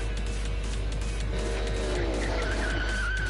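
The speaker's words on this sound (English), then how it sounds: "A sound effect of the motorbike." A motorbike in the video game Blue Reflection Second Light, heard as a loud, continuous engine roar with rising, whining pitch sweeps and squeal-like tones throughout, with no voices.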